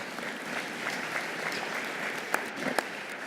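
An audience at a presidential inauguration ceremony applauds, a steady, fairly soft patter of many hands with a few sharper individual claps standing out near the end.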